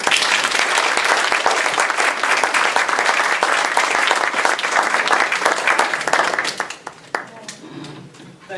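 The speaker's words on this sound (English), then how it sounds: "would you please help me welcome George Fuller." Audience applause welcoming a speaker to the stage, sustained dense clapping from a crowd that holds steady for several seconds, then thins out and fades near the end.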